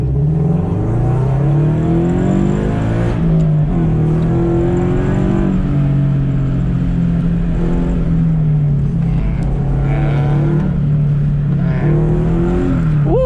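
A Scion FR-S sports car pushed hard around an autocross course, its engine droning loud and steady, rising and falling with gear changes throughout, with a touch of tire noise and no talking.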